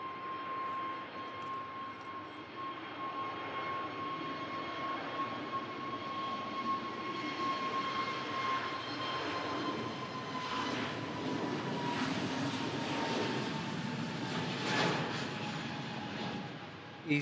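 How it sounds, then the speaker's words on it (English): An EasyJet airliner takes off at Manchester Airport, its engines a sustained broad roar with a steady whining tone that swells gradually and holds for the whole stretch, heard from a distance with no talk. "EasyJet rotates"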